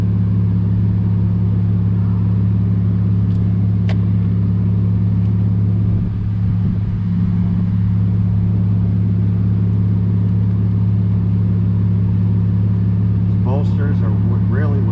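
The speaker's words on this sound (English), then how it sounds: "And as you see, my car's running." A parked 2001 BMW E46 idles with a steady low engine hum throughout, close and constant, with a brief disturbance midway and a few light clicks near the end.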